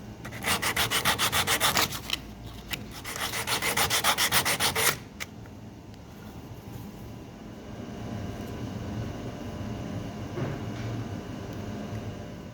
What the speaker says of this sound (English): Clean it up with some glass paper